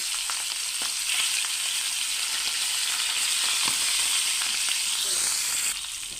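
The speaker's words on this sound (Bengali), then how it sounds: "আমি মাছ ভেজে নেব।" Hilsa fish frying in hot oil, a steady dense sizzle with scattered crackles and pops running throughout, close and fairly loud, easing slightly near the end.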